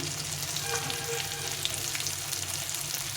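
Tomatoes fry in a pan with a loud, continuous hissing sizzle that holds steady throughout, with faint stirring underneath.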